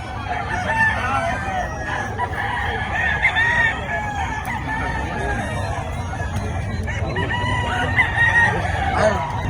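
Chickens clucking and roosters crowing repeatedly at a busy gamefowl market, several birds near and far over a constant crowd babble and background chatter.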